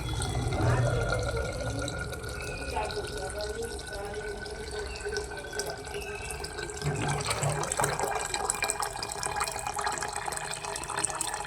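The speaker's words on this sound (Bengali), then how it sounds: "এবার ফিল্টারের জল দিয়ে ভাতগুলোকে রেখে দেবো।" Filtered water is poured over washed rice in a pot, making a close, steady splashing and gurgling pour that keeps going with small drips and shifts in flow.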